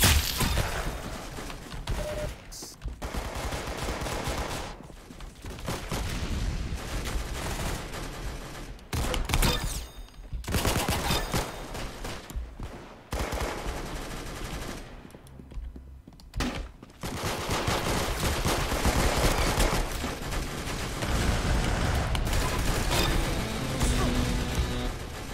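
Gunfire in the video game Arsenal runs almost nonstop as dense, rapid bursts of shots, loud and close, with only brief gaps between volleys.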